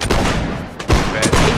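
Musket volley fire during a line infantry battle in the video game Mount and Blade Warband Napoleonic Wars: loud, dense overlapping gunshots rolling across the whole moment, with a brief lull and then fresh bursts.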